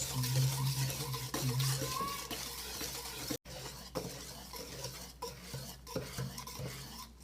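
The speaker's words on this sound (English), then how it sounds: "Let's keep on mixing stuff." Oatmeal cookie dough is stirred in a bowl with a utensil, a continuous close scraping and clinking churn that goes on throughout, briefly cut off by one short gap.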